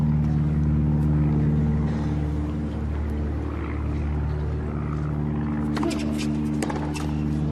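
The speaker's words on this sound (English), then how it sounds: "You hear the droning noise of one of those light aircraft that tows advertisers' hoardings" A constant low drone comes from a light propeller plane pulling an advertising banner above a Miami tennis match. It holds steady throughout under faint voices and a few sharp crowd noises near the end.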